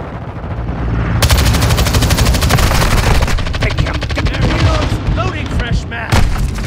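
Multiplayer Call of Duty Modern Warfare 2 gunfire: rapid automatic bursts rattle loud and close for several seconds, then thin into scattered shots with explosions and game voices underneath.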